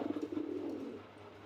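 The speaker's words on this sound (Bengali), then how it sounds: "এখানে আরও একজন মার্শাল্লাহ ড্যানিশ কবুতর পাকিস্তানি ব্লাড লাইনের মতো দেখেন" A Danish pigeon gives a soft, low cooing phrase of quick pulsing notes, fairly faint and heard alone.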